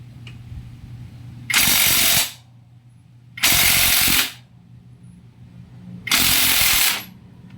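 A Makita cordless impact wrench loosening a nut, three loud hammering bursts of about a second each separated by quiet pauses, close to the microphone.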